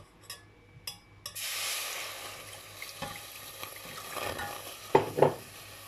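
Oatmeal and corn flour mixed with water being stirred in a pot, heard as soft scraping and sloshing strokes at close range, with a few sharper knocks near the end.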